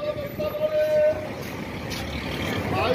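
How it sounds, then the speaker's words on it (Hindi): A cargo truck from Faisalabad pulls in while rain falls, giving a steady low engine rumble with a brief high tonal whine, close by, with voices talking over it. "ये भाई गाड़ी आ गई है फैसलाबाद की।"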